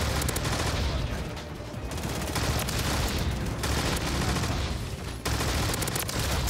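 An AMR9 rifle in Call of Duty MW3 ranked play fires in loud, dense sustained bursts with brief pauses, close and continuous, with other gunfire and game noise mixed in.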